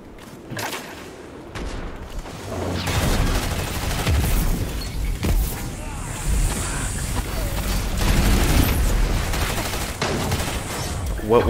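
Rapid SMG bursts in a Destiny Crucible match, video game, with dense overlapping gunfire and booms throughout while a player talks over the action.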